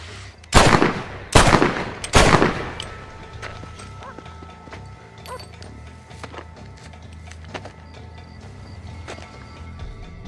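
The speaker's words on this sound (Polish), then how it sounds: "Oddaje w kierunku nieznajomego 3 strzały, a przy czwartym jego rewolwer się zacina." Revolver shots in the video game Red Dead Redemption, three loud sharp blasts about a second apart, followed by quieter hoofbeats and ambient game sounds.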